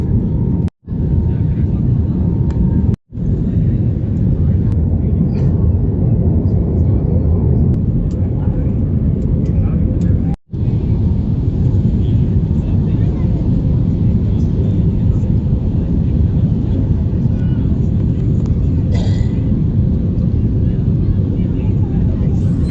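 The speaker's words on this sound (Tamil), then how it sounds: "ஃப்ளைட்டு கொஞ்சம் கொஞ்சமாக கீழே இறங்குது." A passenger airplane descends toward the Andaman Islands, heard from inside the cabin as a loud, steady engine roar and rumble that continues throughout, broken only by a few very brief dropouts.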